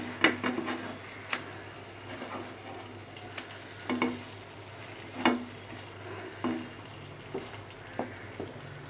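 Pomfret coated in masala fries in a pan with a soft, low sizzle, punctuated by repeated sharp clicks and scrapes of a spatula against the pan at irregular intervals.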